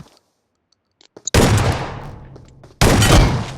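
Two loud, close shotgun blasts in PUBG, the first at about a third of the way through and the second near the end, each with a sharp crack and a long decaying tail, after a near-silent start.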